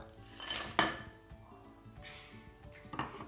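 Gluten-free cookie dough with chocolate being mixed in a bowl, with a few clinks and scrapes of a utensil against the dish, moderately close and fairly quiet.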